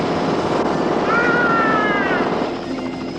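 A helicopter heard in a Rambo: First Blood Part 2 read-along story, a loud, steady rotor and engine drone with a rising and falling turbine whine in the middle, fading slightly at the end.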